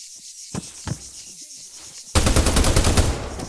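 Automatic rifle gunfire in the military shooter game Arma 3: a few scattered single shots with quiet gaps, then a loud sustained burst of rapid fire.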